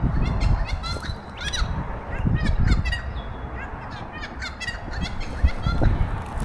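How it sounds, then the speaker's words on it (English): Birds calling outdoors near a rest stop on a motorcycle ride in Australia, with repeated chirping and honking calls over a steady background of outdoor noise and faint voices. "Bird up there singing away."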